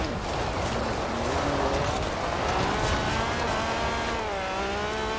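A Lancia Stratos rear-wheel-drive rally car in Forza Horizon 4 drives hard, its engine droning loud and steady with rising and falling revs and some tyre noise throughout.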